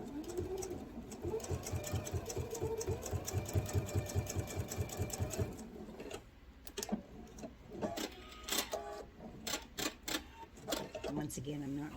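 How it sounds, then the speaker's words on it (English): A sewing machine runs at slow speed, stitching in the ditch on a quilted star heart table runner, with a rhythmic needle thump for about five seconds followed by scattered clicks and taps. "I'm going to turn my machine down actually, so I'm sewing a little slower."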